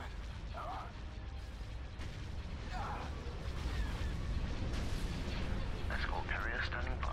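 Star Destroyer laser cannon fire in a Star Wars space battle game, with repeated bursts of blasts and mechanical clatter over a dense rumbling battle backdrop, while voices give commands throughout.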